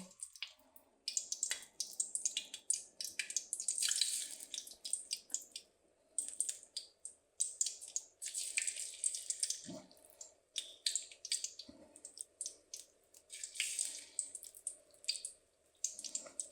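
Pakoras dropped into hot ghee in a kadhai give off repeated bursts of crackling sizzle, each swelling and fading, fairly quiet and close with short pauses between.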